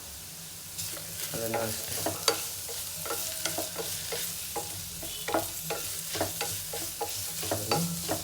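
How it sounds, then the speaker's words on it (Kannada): Two green chillies deep frying in hot oil in a pan for mushroom biryani, a continuous bubbling sizzle with repeated stirring scrapes and clinks, close up, with a few brief spoken words. "ಇನ್ನೊಂದು ಸ್ವಲ್ಪ ಹೀಗೆ ಬಾಡಿಸ್ಕೊತೀನಿ, ಡೀಪ್ ಫ್ರೈ ಮಾಡ್ಕೊತೀನಿ"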